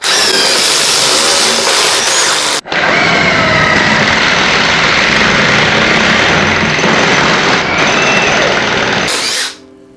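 A loud impact driver whines steadily as it bores a hole with a 3/8 drill bit, pausing briefly once before continuing and then stopping.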